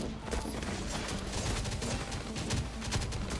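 Dense gunfire from a shooter in the survival video game Last Day on Earth, rapid overlapping shots forming a continuous loud fusillade throughout, with no voices over it.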